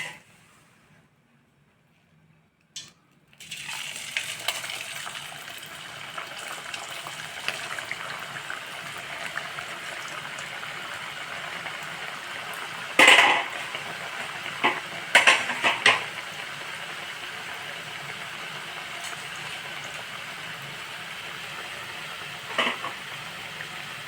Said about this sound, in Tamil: இப்போ வந்து நம்ம எண்ணெய் காஞ்சிட்ருக்கு